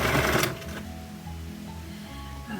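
A sewing machine stitches around the top edge of a lined crossed-over drawstring bag on a 1.5 cm line, a steady mechanical whirr that opens with a brief louder burst and continues quietly alone.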